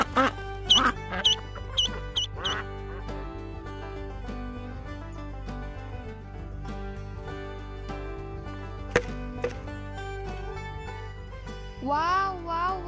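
Duckling quacking calls near the end of a busy stretch of bright, tinkly music with sharp plucked accents.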